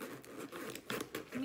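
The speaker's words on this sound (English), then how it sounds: "So it has the double zippers, which is a bonus. The zippers are pretty smooth" Double zippers on a crossbody bag are pulled in a few short, smooth rasping strokes, close and fairly quiet.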